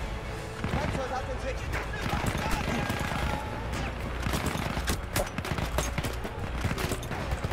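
Rapid bursts of gunfire from Battlefield 1's campaign prologue crackle over a busy mix of game sounds, with a voice talking over the action.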